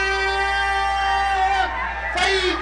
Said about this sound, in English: Big crowd here for Jason.